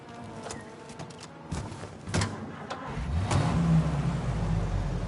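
A car engine in Mafia: Definitive Edition, starting quietly amid street ambience and then swelling into a steady, louder mid-pitched drone as the vehicle pulls away and accelerates.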